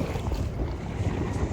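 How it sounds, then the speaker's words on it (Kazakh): A motorboat passing by on Mission Bay, heard as a steady low rumble blended with wind buffeting the microphone and lapping water, with no speech. "Анау катер кетіп бара жатыр мына жерде."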